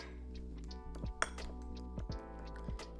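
Large eggs cracked into a bowl of mashed banana for chocolate banana bread, heard as several close, soft glassy clinks and taps against the bowl with a brief sharper knock near the middle, no talking.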